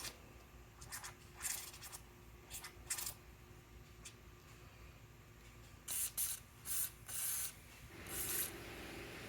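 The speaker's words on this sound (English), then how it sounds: "I'm going to cable lube all these cables. Spray some down the" Bursts of chain and cable lube sprayed into the speedometer cable of a 1979 Vespa P200E scooter, several short hissing puffs, close and fairly quiet, with a longer spray near the end.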